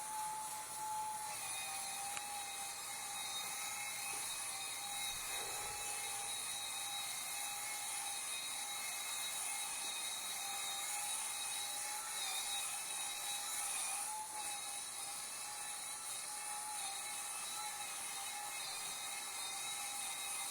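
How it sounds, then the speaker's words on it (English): A Ryobi upholstery cleaning tool runs steadily for the whole stretch, a continuous high whining motor tone with layered harmonics and no pauses, held at an even, moderate level throughout. "Now this Ryobi tool is not super aggressive, so it's a pretty gentle tool."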